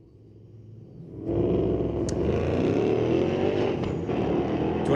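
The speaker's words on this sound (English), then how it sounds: "'13 Mustang taking on a Silverado" A 2013 Ford Mustang and a Chevrolet Silverado launch in a street-legal drag race at Mission Raceway Park, a quiet rumble erupting into a loud, sustained roar of engines under hard acceleration.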